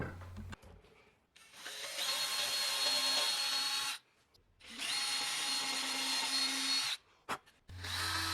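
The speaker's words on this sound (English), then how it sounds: "I moved back over to the drill press, where I drilled a small recessed hole with some Forstner bits." A drill press with Forstner bits whirs and grinds recessed holes into wood in two long sustained runs separated by short quiet gaps, with a motor hum starting again at the end.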